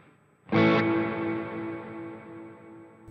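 A hall reverb on a Sonicake Matribox 2 multi-effects unit, mix and decay turned up: one guitar chord strikes hard, then a long, lush stereo tail swells and slowly fades over a few seconds, with no talking.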